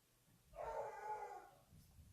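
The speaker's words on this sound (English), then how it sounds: "My dog is so crazy." A dog lets out a single drawn-out whine or howl lasting about a second, fairly close indoors, with no talking over it.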